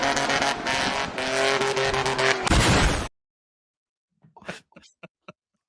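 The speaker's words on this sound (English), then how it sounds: "the car is still being revved as it's going down" A loud, close car engine revving sound effect roars and climbs in pitch for about three seconds, ending in a harsh screeching burst, then cuts abruptly to silence broken by a few brief vocal noises.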